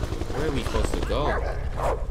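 A dog barks and yips in the video game Beyond Two Souls, short bursts close by and partly buried under loud overlapping voices.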